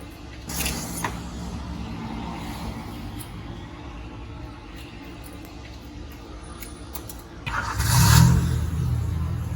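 A car engine turns over after a battery replacement, a low rumble under steady idle noise, then a louder rising rev near the end.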